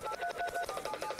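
A telephone dials a run of quick touch-tone beeps, about a dozen short, evenly spaced tones, close and clear with no speech.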